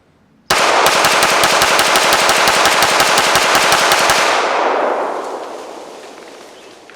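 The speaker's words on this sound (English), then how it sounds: "I'm just gonna shoot into the dirt" A Springfield Prodigy 1911 DS pistol fires a fast string of loud, sharp shots into dirt outdoors, each crack close and clipped, with a ringing echo trailing off after the last one.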